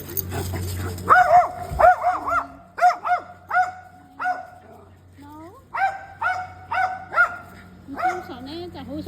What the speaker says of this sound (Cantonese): 就成日都吠嘅。